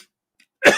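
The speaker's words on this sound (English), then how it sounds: "I just coughed like a bitch" A single harsh cough bursts out near the end after near silence, loud and close, with a short rasping tail.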